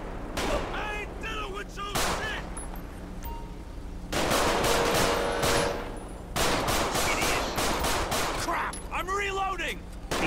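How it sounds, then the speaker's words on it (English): Gunfire in Grand Theft Auto V during a police traffic stop, with bursts of shots and loud broadband blasts spread across the clip, backed by a steady engine hum. "Somebody else shooting?"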